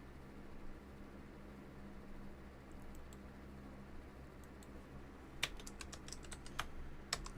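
Sharp, close keyboard keystrokes come in a quick cluster toward the end over a steady low room hum, with scattered lighter taps earlier.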